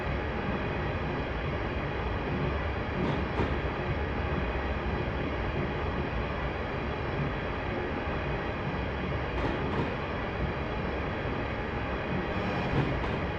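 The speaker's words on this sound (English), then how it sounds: "I'm now just going to allow the train to coast" A train in Train Simulator 2018 coasts with its power shut off on the Rugby to Stafford route, giving a continuous, even rolling rumble with no change in intensity and a few faint clicks.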